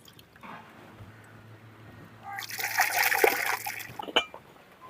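Water splashes and swishes as lentils are rinsed clean in a pot, a soft trickle building into louder sloshing and a few sharp splashes near the end, close by with no talking.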